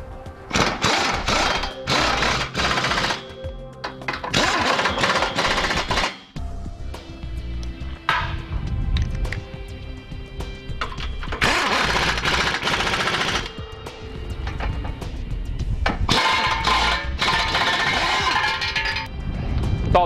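A power tool rattles in repeated loud bursts, driving bolts tight on a Draw-Tite Max-Frame trailer hitch receiver under a 2008 Chrysler Town and Country, with short pauses between runs.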